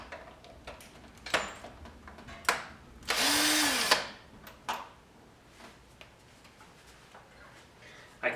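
A power drill whirs in one short burst lasting about a second while working on a Toyota Land Cruiser's ignition coils, surrounded by scattered clicks and knocks of work nearby.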